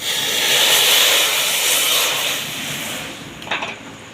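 A loud, continuous sizzle of a spice tempering in hot oil for masoor lentils, hissing steadily, fading slightly toward the end with a few crackles.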